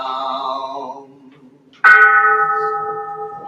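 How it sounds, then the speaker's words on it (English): A ceremonial bell is struck once during a Buddhist monk ordination service, giving a sharp, loud strike that rings on with a long sustained tone after a fading earlier resonance. "Vowing that the sound of this bell pervades the universal Dharma"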